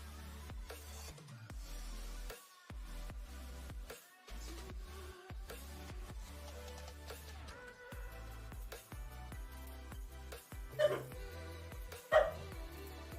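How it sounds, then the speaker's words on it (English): Dogs barking faintly in a room, a few short yips and barks near the end over a steady low background hum and clatter. "Doggos."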